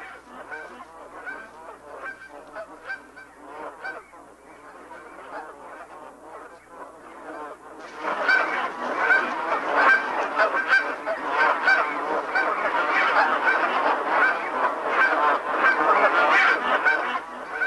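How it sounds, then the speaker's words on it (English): Flock of geese honking nonstop as they are driven by hand into pockets of a fence for banding at a river's end, a dense chorus of overlapping calls that swells louder and busier partway through, with no voices. "as some of them drive geese into little pockets of the fence where they can more easily be caught by hand"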